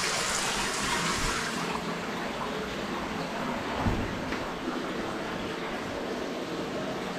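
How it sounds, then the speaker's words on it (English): Small waterfall in a narrow rocky stream pours with a steady broadband rush, close and moderately loud, with a brief knock midway and no speech. "Yeah, a little waterfall."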